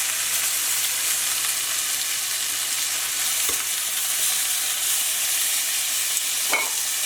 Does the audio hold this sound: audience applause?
no